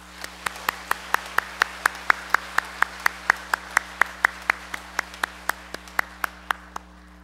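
A church congregation claps together in steady, even unison, roughly two dozen sharp, evenly spaced claps at a brisk beat that thin out and fade near the end, with no talking over them.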